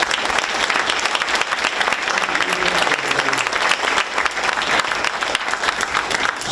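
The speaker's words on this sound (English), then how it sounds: "How about a round of applause for our panelists?" Sustained, dense applause from an audience rewards a panel of Vietnam War veterans and University of New Hampshire alumni. The steady, loud clapping of a full room runs without a break, and faint voices murmur underneath.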